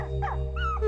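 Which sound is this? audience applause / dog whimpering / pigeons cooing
dog whimpering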